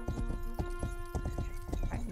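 Horse hooves clip-clop in a steady galloping rhythm in an open-world Western video game, close and fairly loud, with faint game sounds and a brief whinny-like tone near the end.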